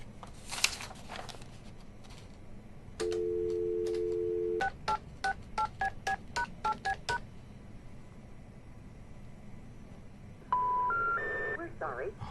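Touch-tone telephone keys dialed in quick rhythmic succession, distinct beeps following a steady tone, with a short automated tone sequence near the end over a faint background hum.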